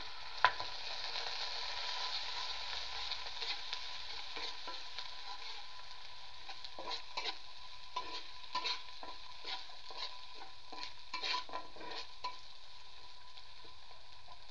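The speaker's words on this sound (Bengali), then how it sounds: "পেঁয়াজটা বাটারও আমি কিছু সময় ভাজা ভাজা করব" Onion paste fries in oil in a pan over low heat, giving a steady quiet sizzle broken by repeated scraping stirs of a spoon in the latter half, with no talking.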